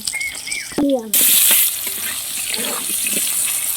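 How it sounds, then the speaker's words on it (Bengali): Potato pieces fry loudly in hot oil with salt and turmeric for a cauliflower and paneer dish, with a steady broad sizzle after a brief clatter near the start and no talk. "আমি আলুটা দিয়ে দিচ্ছি আলুটা একটু লাল করে ভেজে নেব"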